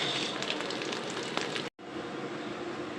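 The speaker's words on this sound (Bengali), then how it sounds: "মাছ ভাজা প্রায় শেষ" Fish frying in a pan gives a soft, steady sizzle with faint crackles, fairly quiet and close, cut by a momentary dropout.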